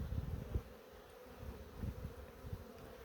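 Honey bees buzz around an opened hive during honey harvesting, a low steady drone close by with small swells in loudness, no voices present.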